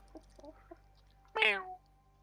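A voice mimics a high-pitched truck in one short, loud, rising squeal after a few faint murmurs.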